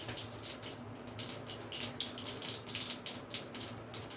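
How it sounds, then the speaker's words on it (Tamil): Mustard seeds spluttering in hot oil for an Andhra-style potato and brinjal curry, a dense close sizzle with rapid overlapping crackles and pops running steadily throughout, fairly quiet overall. "கடுகு வெடிக்குது"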